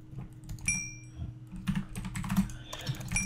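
Computer keyboard typing: close, irregular bursts of key clicks and taps, loud and alone with no talk.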